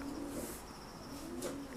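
Pigeons coo softly in a racing loft, low repeated calls set against a steady, fairly loud background hiss, with a faint bird chirp now and then.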